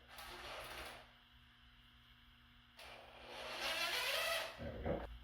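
A power screwdriver drives screws into an electrical cover in a workshop, holes a little tight, in two whirring bursts of about a second and nearly two seconds with a quiet gap between, fairly close.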